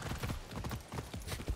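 Horse hooves clip-clop in the video game Far Cry 6, a steady run of soft, fairly quiet hoofbeats against a busy background.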